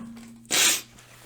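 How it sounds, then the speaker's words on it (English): A single sharp sneeze bursts out close to the mic after a quiet lead-in, with faint background hum and no talk. "Oh, I'm going to sneeze."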